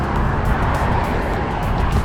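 Road traffic roars by continuously on a Florida route between Daytona and New Smyrna Beach, a dense, loud wash of passing cars close to the listener with no pauses.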